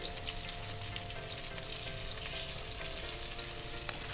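Potatoes fry in a pan with chopped onion, garlic, turmeric and salt, giving a dense, loud, continuous sizzle with faint stirring, close and without talk.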